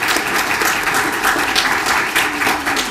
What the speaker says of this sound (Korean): 우리 교수님들한테 우리 박수 한번 받으시죠.